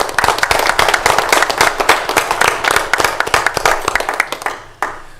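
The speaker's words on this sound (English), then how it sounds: "Another round of applause for our 4-H youth" Audience applause for 4-H youth at a county commissioners meeting: loud, dense clapping from a room full of people that carries steadily for about five seconds, then thins and stops with a couple of last claps.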